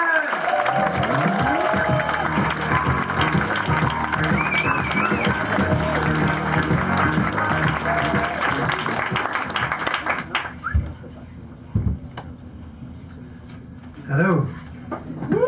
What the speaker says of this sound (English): Please start clapping. Please start cheering.